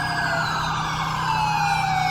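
Ambulance and fire truck sirens in the video game GTA 5, loud overlapping wailing tones sweeping up and down continuously throughout.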